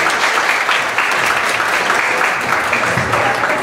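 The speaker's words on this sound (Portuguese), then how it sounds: "Uma salva de palmas para elas." Steady applause from a church congregation honoring mothers on Mother's Day, dense and sustained throughout with a few faint voices mixed in.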